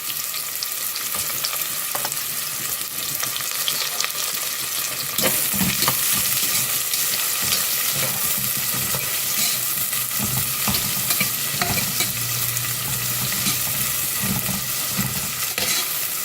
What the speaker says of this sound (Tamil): எண்ணெய் காஞ்சிருச்சு வெங்காயம் போட்டுக்கிறேன்